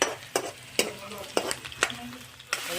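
Chicken liver and meat fry with onions in a pan, a steady close sizzle broken by several sharp stirring scrapes at irregular intervals, with no talking.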